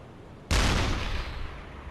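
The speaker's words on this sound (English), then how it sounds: "they're firing machine guns at us" Gunfire aimed at a U-boat in the UBOAT naval video game: one sudden loud close blast that rings out and slowly decays, with no voices.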